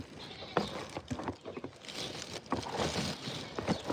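Goats bleating on a farm, several overlapping wavering calls close by, fairly loud and continuous against outdoor ambience.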